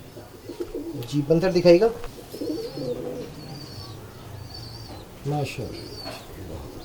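Female Kamagar pigeons coo in soft, throaty bursts, with a louder cluster early on, while people talk over them nearby.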